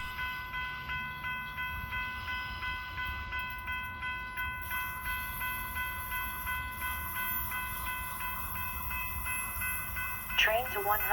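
A Denver RTD commuter rail train with Silverliner 5 equipment passes on the N Line at Commerce City, producing a steady rumble and rhythmic clatter with sustained high tones, and a brief louder horn burst near the end.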